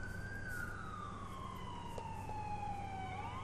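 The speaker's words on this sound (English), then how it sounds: "Alright, so I do hear some sirens." Video game police sirens in Liberty City wail, sweeping up and down at a distance, steady and continuous over a low background rumble, with no talking.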